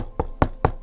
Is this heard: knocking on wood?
yes